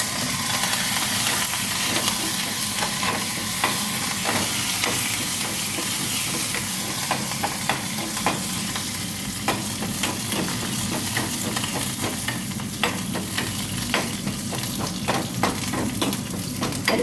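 Curry leaves crackle and sizzle in hot oil for a tomato saaru tempering, a constant loud frying hiss dotted with sharp pops and spits, no talking.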